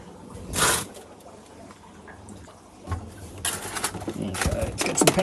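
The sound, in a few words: Oase Biomaster filter primer pumping water into the unit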